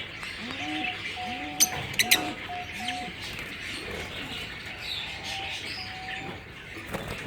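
Repeated short parrot calls with rising whistled notes, several in a row, over a steady chattering background and a couple of sharp clicks.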